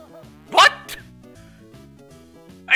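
A dog in an Ed, Edd n Eddy Jawbreakers game gives two sharp, loud barks in quick succession, followed by a quieter stretch with background music and another bark starting at the end.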